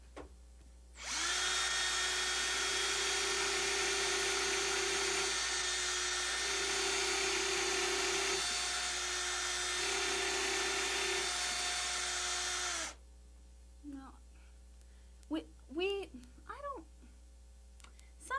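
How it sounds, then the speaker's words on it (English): An electric drill with a wood bit whines steadily for about twelve seconds at close range while drilling into a wall, then stops, followed by faint scraping and a few short sounds. "when you're drilling, you just use whatever drill bit works"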